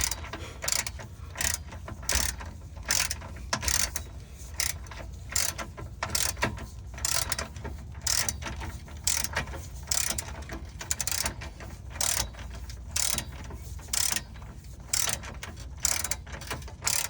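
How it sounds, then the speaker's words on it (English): A torque wrench worked as a ratchet during an Acura ZDX timing belt job clicks in quick rhythmic bursts of pawl ratcheting, repeated many times in short strokes, close and clear with no talking. "Torque wrench is not the best thing to use as a ratcheting tool"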